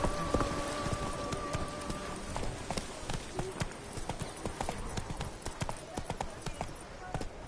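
Roach, the horse in The Witcher 3, gallops with rapid, loud clip-clop hoofbeats in a driving rhythm, close by, while a voice speaks over it.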